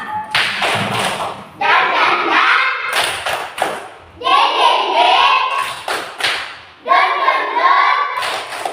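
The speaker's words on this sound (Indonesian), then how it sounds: "1, 2, 3. Tepuk semangat." Schoolchildren in a morning class perform a rhythmic spirit clap, sharp sets of claps alternating with loud group chanting in a repeating pattern.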